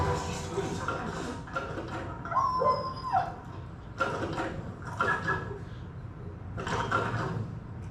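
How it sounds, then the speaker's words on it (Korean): A puppy in a recycling campaign advertisement yips and whimpers in short, repeated bursts, with a thin high whine among them, over a steady backdrop of music and mechanical sound. "강아지가 오고 있어요."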